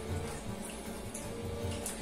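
Tap water runs in a steady, continuous stream into a sink, close and fairly quiet, with no talking.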